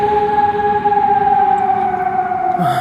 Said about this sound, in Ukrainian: Бачите, тривога лунає ніхто в укриття не йде.